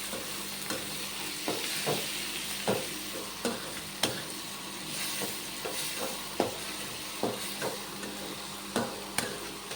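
A spoon stirs finely chopped tomatoes in a hot pan for egg masala curry with curry leaves, giving a steady close sizzle with regular scraping strokes about once a second.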